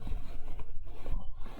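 Plastic tube being sawn by hand, a steady rasping back-and-forth scrape heard close and alone.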